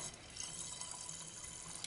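Tap water running steadily into a volumetric flask during a school chemistry practical, a continuous hissing fill that stays even and fairly close throughout, with no talking over it.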